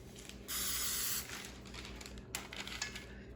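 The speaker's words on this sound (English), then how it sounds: "you spray it again" Baking spray hisses into a cake pan in a steady burst of about a second, followed by a shorter second spray, close and fairly quiet against a faint kitchen background.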